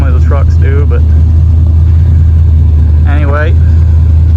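A truck's LS-swapped V8 idles through an exhaust without an X pipe, a steady, deep rumble loud and continuous throughout, with brief bursts of talking over it near the start and again later.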